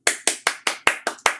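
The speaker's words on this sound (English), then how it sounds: "let's clap." Seven crisp, evenly spaced hand claps ring out close and loud in a steady rhythm, each one sharp and quickly decaying, with nothing else around them.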